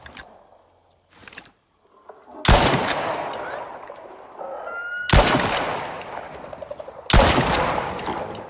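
Gunfire in the survival video game Icarus: three loud, sharp shots spaced a couple of seconds apart, each trailing off in a long, echoing tail, after quieter scattered noises at the start.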